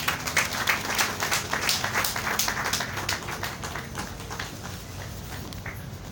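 Audience applauding at the opening ceremony of an agency, clapping from a gathered crowd that starts fairly strong and gradually thins and fades toward the end, over a low background rumble.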